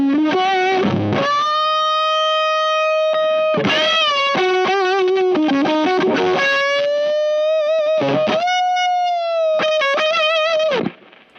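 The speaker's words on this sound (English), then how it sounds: "So this is just humbuckers going straight into the amp, into the dirty." An electric guitar with humbucker pickups runs through a Tone Cloud Jaffa fuzz pedal into a dirty amp, playing loud, sustained, heavily distorted notes and bends in bursts of phrases, close and alone.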